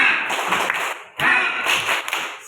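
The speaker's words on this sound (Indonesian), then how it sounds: "Tepuk semangat." Rhythmic 'tepuk semangat' spirit clapping in a classroom, two bursts of brisk patterned claps from a group, loud and close, separated by a brief pause.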